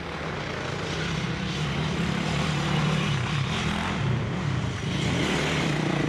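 Dirt bikes race around a turn at a motocross event, their engines droning loud and steady as several machines pass in a continuous roar.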